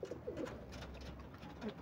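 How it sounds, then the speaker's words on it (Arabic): Pigeons coo softly at close range as a flock is let out to fly, several low throaty calls over a steady background hum, no talking. "واحنا طبعا طالعين مع بعض نسيب الحمام يطلع براحته"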